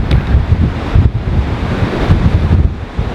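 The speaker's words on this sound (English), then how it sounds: "filming on here when it's windy conditions with a camera can be a bit tough" Strong wind buffets the microphone on a Blackpool fishing outing in a constant low roaring rumble with gusty surges throughout, and no other sound stands out.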